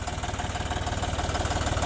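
A tractor engine runs steadily at close range, a loud, even diesel throb with a fast regular pulse and no voices over it, on a farm hauling a sugarcane trolley.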